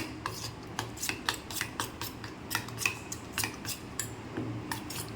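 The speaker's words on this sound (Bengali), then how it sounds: "এবারে আমি এটাকে মিক্স করব সুন্দর করে।" Semolina chilla batter being mixed with salt and cumin powder: a spoon scrapes and taps against the bowl in quick, uneven strokes, fairly close and fairly quiet, with no talking.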